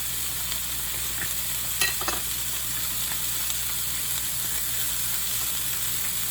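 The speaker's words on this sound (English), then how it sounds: "I'm gonna stir it just a little bit, make sure it's not burning" Broccoli frying in butter and garlic in a pan, stirred now and then, gives a steady soft sizzle with a few faint scraping clicks near the middle, and no voices.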